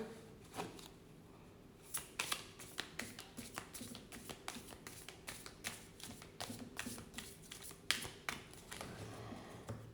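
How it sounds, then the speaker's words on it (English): A deck of reading cards handled on a table: irregular taps and soft riffles as the cards are shuffled and cut, close and fairly quiet, with no talking. "And let's cut the deck in 3."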